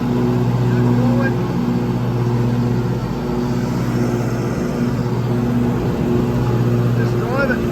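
A ride-on lawn mower driving forward, its engine a steady, close, droning hum that holds an even pitch throughout.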